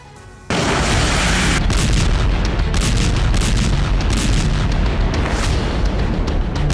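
Bomb explosions strike Beirut in a heavy, loud, sustained roar of booming blasts that begins suddenly and rumbles on without pause.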